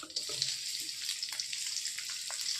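Garlic and slit green chillies frying in a little oil, a continuous bright sizzle with scattered pops and crackles, close and moderately quiet, without talk.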